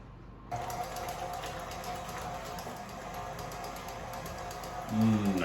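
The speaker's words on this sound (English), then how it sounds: "All right, we're gonna mix that together." Almond cookie batter for Italian rainbow cookies is stirred in a bowl, a soft continuous churning swish under faint room noise, with a louder thump near the end.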